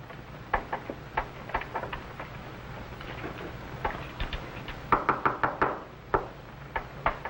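Knocking on a wooden door in an old radio-style drama set in William Tell's time, a series of sharp raps in irregular clusters, fairly close and clear against a quiet room.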